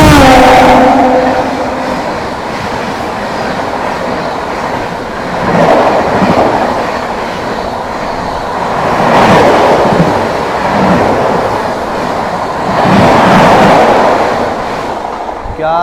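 The Madhupur–Anand Vihar Humsafar Express rushes past alongside at high speed while overtaking, a loud roar of passing coaches with swelling waves of rail clatter recurring every few seconds.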